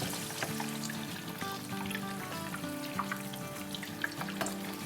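Bread pakora stuffed with potato and cheese fries in oil over medium heat, a steady close bubbling sizzle with crisp crackles, accompanied by a soft tonal melody in the background and no talking.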